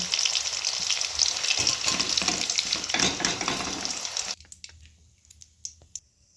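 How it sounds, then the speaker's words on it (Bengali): Potato pieces frying in hot oil for a fish curry, a dense, loud crackling sizzle that runs steadily for about four seconds and then cuts off abruptly, leaving faint clicks and soft scrapes. "আলুগুলো বেশ লাল লাল করেই ভেজে নিচ্ছে"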